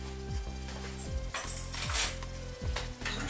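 A spoon stirring a tiny measured pinch of ingredient into cow's milk for feta-style cheese, with repeated clinks and scrapes against the pot in a steady back-and-forth rhythm, close and moderately loud.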